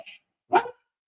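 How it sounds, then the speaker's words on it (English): Dogs barking indoors in a home during a live stream, two quick sharp barks a moment apart, fairly close and clear, the second louder than the first. "Sorry, the dogs."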